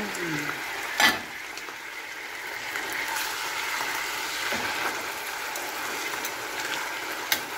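A pork chop fries in a covered pan, giving a steady, soft sizzle with a faint crackle throughout, broken by a sharp metallic clink near the start and a small tap at the end.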